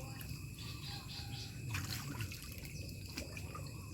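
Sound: water trickling

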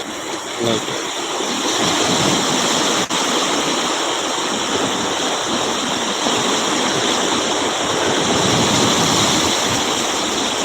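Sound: sea waves crashing on Kottakkuppam beach

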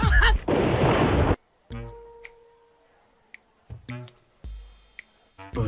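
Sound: fireworks exploding

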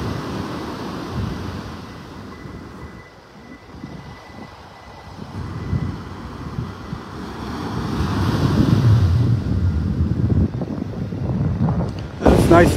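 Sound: breeze blowing on Vanderbilt Beach with surf

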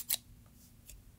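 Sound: scissors being thrown and landing

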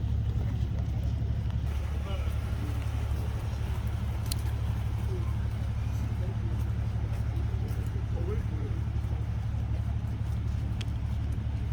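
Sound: fire command vehicle reversing in

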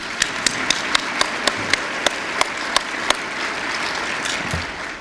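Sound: round of applause from a conference audience

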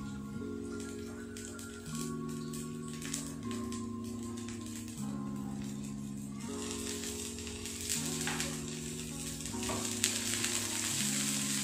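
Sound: onion and green chili frying

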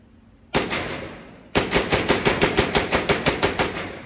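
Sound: Rex Tactical 300 Blackout pistol firing with a suppressor

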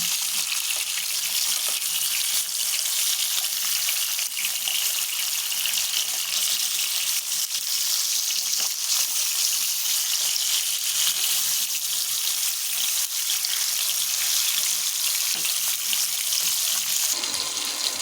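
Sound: fish pieces frying in oil

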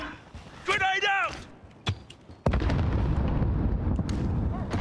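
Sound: grenade explosion in video game Warzone

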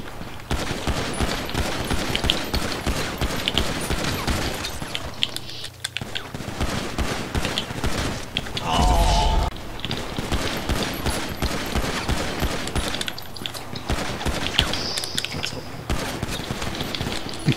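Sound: gunfire in the video game GTA V

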